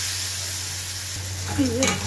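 Onion and tomato frying in a pan while being stirred, giving a steady close sizzle with a brief scrape of the utensil near the end and no voices.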